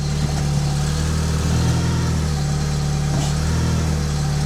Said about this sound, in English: interesting that the revs change when I press the accelerator or press the brake even